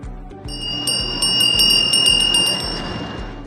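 A bell rings to open a formal session of the Mexican Senate, striking in a steady series of bright, resonant peals that build over a low murmur of the chamber, loud and close.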